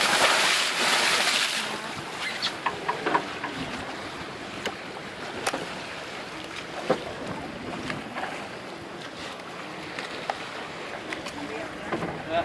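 Ocean swells and waves wash behind a boat in the Santa Barbara Channel, a steady broadband rush with scattered splashes and slaps throughout, louder surging at the start, with faint voices in the background.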